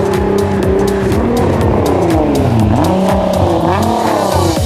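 Car engine revving and accelerating during a paid ride in a second car, with rising and falling engine pitch sweeps and possible tire noise, loud and close throughout.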